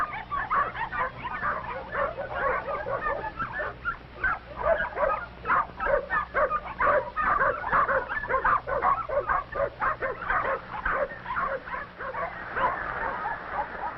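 A mother dog barks warnings at a young seal, rapid repeated yips and barks mixed with whimpers and puppy noises, continuous and fairly close on an old, thin-sounding recording.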